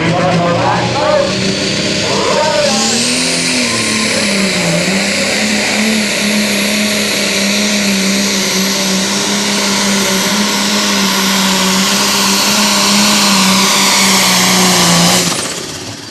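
A super stock pulling tractor at a tractor pull in Winchester winds its engine up into a loud, sustained high-pitched scream lasting most of the run, then cuts off abruptly, with an announcer's voice heard early on.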